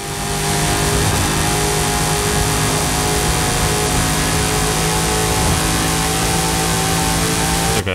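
The engine of a Hot Wheels car in Forza Horizon 5 revs hard and loud at a sustained high pitch for several seconds, steady and close, cutting off abruptly at the end.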